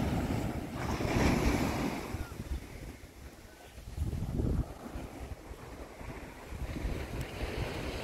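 Ocean surf washing onto the beach at Plum Island, Massachusetts, as the tide turns, with broad swells of wash and steady wind noise across the microphone throughout.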